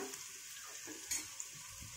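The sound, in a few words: onion frying with garlic ginger paste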